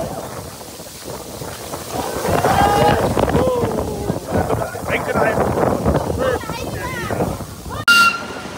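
Strong wind buffets the microphone with constant rumbling gusts at an outdoor Phulchoki jatra festival near Panauti, while people talk through it and a sharp bump sounds near the end.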